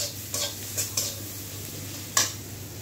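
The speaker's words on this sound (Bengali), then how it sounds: "পেঁয়াজগুলো একটু নাড়াচাড়া করে ভেজে নেব।" Onions stir-fry in a little oil, with a faint steady sizzle under several quick scraping strokes of a utensil against the pan, close and fairly quiet.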